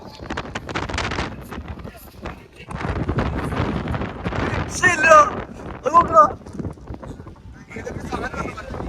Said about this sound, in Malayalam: നിൽക്കാൻ പറ്റില്ല, കാറ്റുണ്ട്.